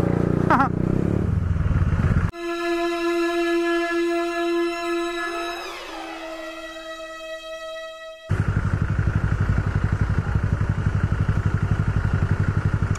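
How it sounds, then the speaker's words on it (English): A motorcycle engine revs hard in traffic, loud and close, with a steady tonal passage cutting in mid-way before the throbbing engine roar returns. "Se te va a romper la moto si te aceleras tanto."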